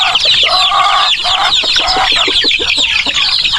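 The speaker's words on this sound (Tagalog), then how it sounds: "ito naman yung mga breeders natin mga manok. ang inahing manok." Breeder hens and roosters on a farm clucking continuously, a dense, close flock chorus of overlapping clucks and squawks with no talk.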